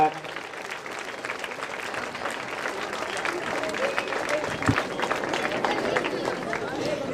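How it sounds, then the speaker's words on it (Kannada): Audience at a college program inauguration clapping together in a large hall, a steady dense wash of applause with faint crowd murmur underneath, lasting throughout. "ದಯವಿಟ್ಟು ಚಪ್ಪಾಳೆಯ ಮೂಲಕ"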